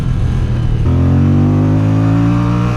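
A 2027 Moto Guzzi Stelvio motorcycle engine pulls hard after a brief lull, its loud, close exhaust drone holding steady at high revs.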